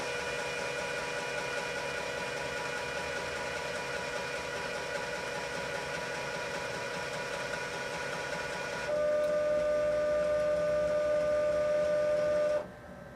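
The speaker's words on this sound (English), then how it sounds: "You will see the ink being drawn up into the lines coming into the machine." A Viper DTG printer runs a power cleaning cycle, drawing ink up into its lines with a steady mechanical hum and whir, then a louder pump tone with a distinct pitch for a few seconds before stopping.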